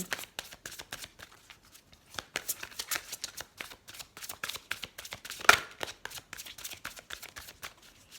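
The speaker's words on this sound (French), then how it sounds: "on va tirer une dernière carte pour clôturer ce tirage avec l'oracle des anges" Oracle cards from an angel oracle deck being shuffled by hand, a steady run of soft riffling flicks and slaps close by, with one sharper snap midway and no talk.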